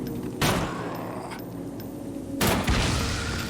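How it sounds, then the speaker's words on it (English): Two sharp booms from exploding zombies after headshots in the horror game Them and Us, spaced about two seconds apart, each a loud broadband burst over a quiet, murky ambient bed. "2 good headshots make the blowy guys go boom"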